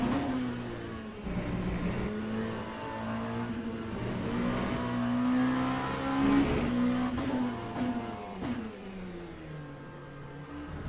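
An LMP2 prototype race car in a racing video game revs and shifts continuously, a loud engine tone rising and falling through gears with brief tire noise, heard without talk.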